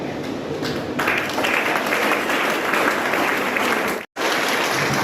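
Audience applause fills an NCC cadet certificate ceremony, a dense, steady burst of many hands clapping close by for several seconds, cut by a brief silent break near the end before resuming.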